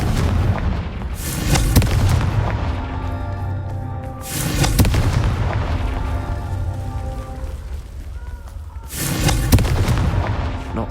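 Confringo blasting spell cast in Hogwarts Legacy, landing as three heavy booming bursts spaced a few seconds apart, each with a rumbling tail that fades into a low background rumble.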